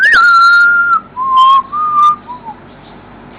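A parrot named Tippy whistles a western tune, a single clear whistle of sustained notes that step down and up in pitch, close and alone with no talking.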